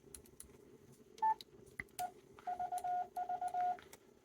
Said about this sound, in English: you can hear the clickety clicks of the contact points on either side